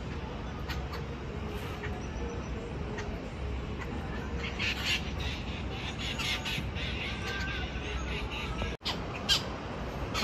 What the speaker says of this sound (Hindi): सुबह सुबह पक्षियों की चहचहाट काफी मस्त लग रही है।